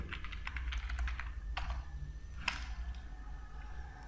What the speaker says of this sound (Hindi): हमने पासवर्ड एंटर किया और उसके बाद लॉगिन कर लिया